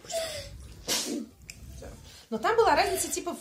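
A single sharp sneeze interrupts a political talk about the electoral college, breaking in between spoken phrases; voices talk before and after it.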